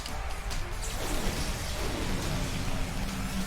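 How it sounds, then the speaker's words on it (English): Steady rain hiss in Pokemon Shield, falling continuously and fairly loud across the whole moment with no talk over it. "And it's raining again."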